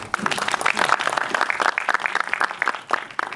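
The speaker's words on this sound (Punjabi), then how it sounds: "ਇਹ ਤਾਲੀਆਂ ਤੇ ਮਾਰੋ" An audience at a film promotion event bursts into dense, crackling applause, with many hands clapping continuously at close range for a few seconds.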